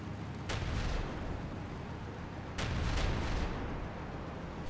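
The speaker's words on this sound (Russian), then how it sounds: "Укройтесь от взрыва" Explosions in the World War Polygon shooter game: two heavy, booming blasts, the first near the start and the second a couple of seconds later, each followed by a rumbling tail over constant loud battle noise.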